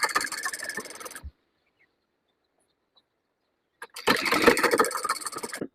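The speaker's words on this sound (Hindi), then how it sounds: "सिलाई शुरू कर लेते हैं।" A sewing machine stitches a blouse in a hill-village home, running in two loud bursts of fast rhythmic whirring separated by about two and a half seconds of near silence.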